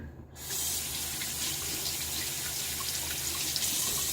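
Tap water runs from a faucet in a bathroom sink while Tabac hard shaving soap is lathered with a boar bristle brush, a steady close splashing stream starting abruptly after a brief quiet moment.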